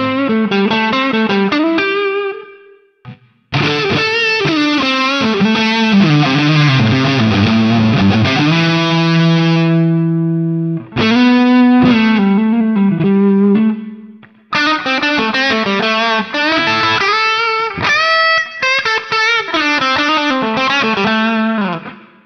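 Electric guitar through the Expression Gain preset of a Harley Benton DNAfx GiT multi-effect processor, heavy distorted gain, chords and riffs ringing loud and continuous with a few brief gaps between passages.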